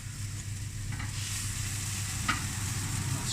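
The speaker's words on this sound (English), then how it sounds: "they're just sizzling away, softening down" Red onions sizzle softly and steadily in a pan, a continuous close frying hiss with a faint low hum beneath it and one small tick near the end.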